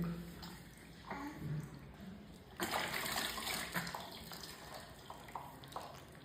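Water splashing and pouring during a baby's bath and hair wash with shampoo, soft intermittent splashes and a fuller gush of running water, close and moderately quiet.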